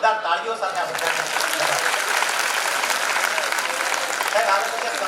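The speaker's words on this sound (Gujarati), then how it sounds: "એકવાર જોરદાર તાળીઓ સાથે આ બધાને" A large crowd at a motivational talk breaks into loud, dense applause that swells quickly and carries on steadily at full strength, with a voice faintly mixed in.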